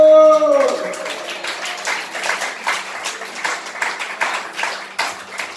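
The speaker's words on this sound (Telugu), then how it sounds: "చప్పట్లు." A church congregation claps hands in a steady rhythmic beat, fairly close and continuous, after a brief sustained tone at the start.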